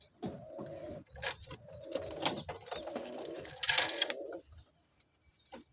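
Young racing pigeons coo close by in low, rolling bursts, joined by wing flutters and soft rustling in the loft.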